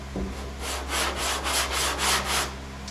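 Sanding block worked back and forth over body filler on a broad flat panel, giving a steady series of rhythmic rasping strokes, close and fairly loud, with a low background hum.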